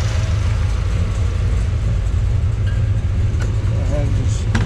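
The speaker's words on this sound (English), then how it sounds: "And just rev it up a little bit here." A restored 1957 Chevrolet Nomad restomod with a blueprinted 383 V8 and fuel injection runs with a loud, steady low rumble close by, its pitch barely changing, while a voice is briefly heard over it.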